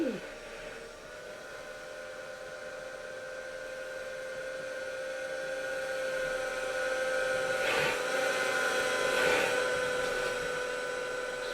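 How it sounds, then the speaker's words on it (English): A small RC toy helicopter flies with a steady, faint high-pitched motor whine and rotor buzz, holding a constant tone that swells slightly as it comes nearer, with no talking. "So that's a helicopter."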